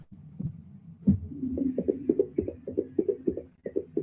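A heartbeat throbs in a steady series of soft, low thumps, regular and close, with a faint hum beneath.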